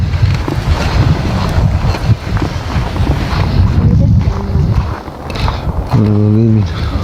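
Wind buffets a microphone outdoors somewhere in Estonia, a steady loud rumbling roar throughout, with people talking intermittently over it.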